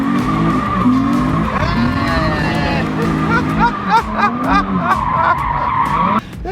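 A car drifting at a car meet in Ireland, its handbrake pulled and tires skidding, gives long, loud squeals that rise and fall with revving engine noise, while a crowd chatters and shouts nearby.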